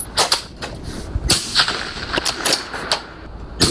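Rifle fire from a CADEX Kraken or Barrett MRAD at an outdoor range: a series of sharp, loud cracks spaced irregularly, with quieter clicks between.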